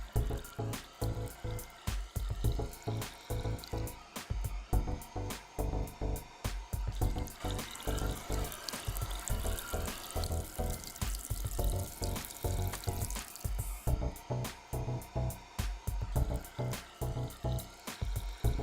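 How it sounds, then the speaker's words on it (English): Tap water flows through a Gappscan unit, a continuous splashing rush of running water with irregular clattering and gurgling pulses throughout, fairly close and moderately quiet, with no voices. "Turn on the tap to flow water through the Gappscan unit for around a minute."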